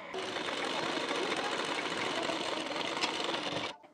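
A sewing machine runs in one continuous, fast, steady burst, stitching the patti onto a blouse, then stops abruptly near the end, with no speech.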